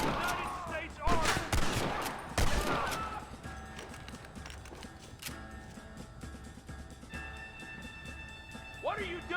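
Gunfire in the video game Red Dead Redemption: a rapid burst of loud close shots with ricochets, then sparser distant shots and a rumbling train-like drone, with shouting voices in the mix.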